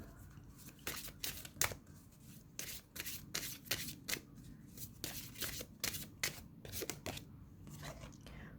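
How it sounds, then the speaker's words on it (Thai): Tarot love-reading cards being shuffled by hand, a run of quick crisp riffling bursts repeating steadily at close range over a faint background hum. "เราไปเปิดไพ่สรุปให้กับคุณนะคะ"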